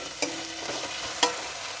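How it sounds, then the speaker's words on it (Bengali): Onions frying in a pan give a steady, even sizzle, with two brief clicks of a utensil against the pan. Close and moderately loud, with no voices. "এবার আমার পেঁয়াজগুলো ভাজা হয়ে এসছে।"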